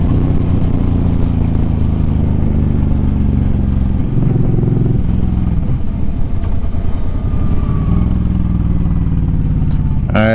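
Suzuki M50 motorcycle ridden along a road, its engine droning loud and close with shifts in pitch as it accelerates, eases off and revs again, with no voices.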